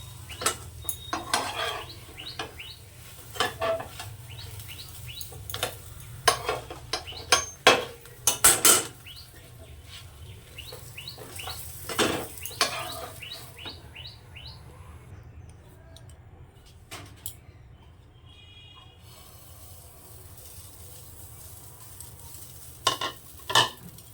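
Rolled flatbread (roti) sizzles and fries in a pan, with scraping and clinks of a utensil against the metal in irregular bursts.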